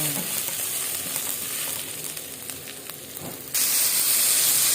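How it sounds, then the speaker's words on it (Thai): Garlic and pork sizzle in hot oil for a Thai stir-fry of pork with banana peppers, a loud continuous frying hiss that surges brighter near the end. "นี่ก็ใส่กระเทียมกับหมูเข้าไปแล้วนะคะ"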